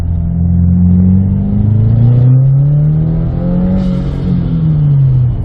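A 2023 Subaru WRX engine with an aftermarket ETS intake revs and accelerates with a deep, rising rumble and a breathy intake whoosh, loud and close throughout.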